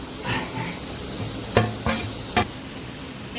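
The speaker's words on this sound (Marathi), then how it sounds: "आता आपण हे बेसन पीठ स्लो गॅसवर चांगलं लालसर होऊ तर भाजूया" Gram flour (besan) roasts in a pan over low heat while being stirred, a soft continuous sizzle under which a few sharp scrapes and clinks of the spoon against the pan sound near the end.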